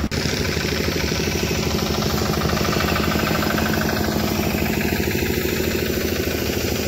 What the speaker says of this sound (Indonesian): dipadatkan dengan mesin baby roller full fibro.